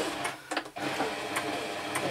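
A Toyota Oekaki sewing machine stitching with the tension set at plus 5, a close, fast, even whirring run of needle strokes with brief changes in pace.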